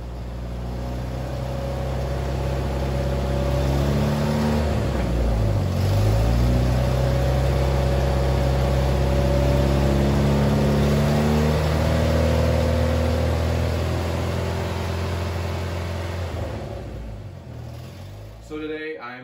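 Jeep TJ raised on jack stands with the drivetrain spinning at road speed, a steady mid-pitched engine drone and whirring rear axle that rises and falls gradually over about twenty seconds, heard up close.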